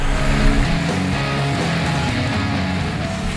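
Engine of a 2017 Dodge Challenger GT AWD roaring steadily with spinning tires as it ploughs through thick snow, loud and close throughout.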